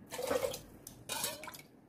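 Water splashes in two short bursts into a metal pot for dal khichdi, with faint clinks of the vessel between pours.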